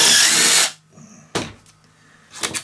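Power tool driving out T27 bolts from a Stihl BR86C engine, a loud close burst of whirring lasting about half a second, followed by short clicks and a brief second buzz.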